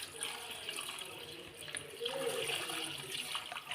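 Raw chicken being washed under a running kitchen tap, a steady hiss of flowing water with splashing that swells partway through, close and fairly quiet, with no talk.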